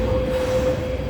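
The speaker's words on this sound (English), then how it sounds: "Oh, we already got train departing on the outside," Train departing Lok Ma Chau station, a brief steady rumble with a sustained tonal whine, fairly loud and close, with no talking.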